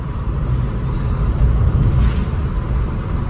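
A car drives along a road through green countryside in fine weather, its steady low rumble filling the cabin with constant, even road and engine noise and no voices.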